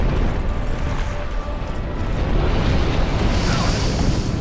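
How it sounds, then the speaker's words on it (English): Fire breath from a boss in Dark Souls 2 (Crown of the Sunken King DLC), a loud, sustained roaring rush that keeps going steadily for several seconds and flares brighter toward the end. "See, now he's going to breathe fire, and I can't do anything about it"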